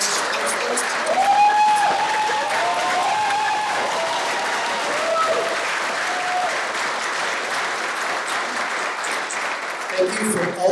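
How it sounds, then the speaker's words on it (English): At a Santa Rosa Junior College commencement, a large audience claps loudly and steadily for the Gateway to College student counselors, with whoops and whistles rising over the sustained applause. "Please give a big round of applause to the Gateway student counselors."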